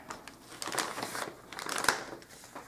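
Jute twine being cut up close for a dollhouse miniature bird's nest, a crinkly rustle of handling with a couple of sharper snips near the middle.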